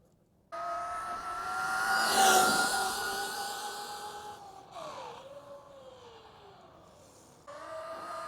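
A Traxxas Maxx V2 RC car at full throttle on a speed run, giving a high electric whine that climbs sharply, peaks, then fades as it runs away, followed by a second burst of whine at the end.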